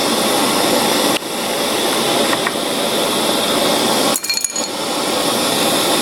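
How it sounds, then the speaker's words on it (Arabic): A power tool drives a screw into a metal frame. Its steady, loud whirring motor runs close up and continuously, with a brief dip partway through and a short rattling catch near the end. "بربط مسمار"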